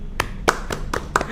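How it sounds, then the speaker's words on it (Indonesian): At a primary school gathering for National Santri Day, a handful of sparse, separate hand claps ring out with uneven spacing, quiet and close, with no crowd roar. "Tepuk tangan untuk Ustadz Masrur"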